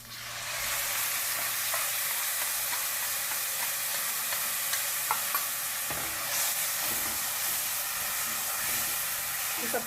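Ground onion-spice paste going into onions frying in oil in a pan for peas pulao, setting off a loud, steady sizzle and hiss with occasional stirring scrapes, close up and without speech.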